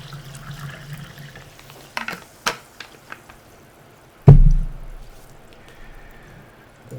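Water trickles and splashes briefly as someone gets more water, with a few small clinks and then one sharp knock, fairly close in a quiet room, no talking.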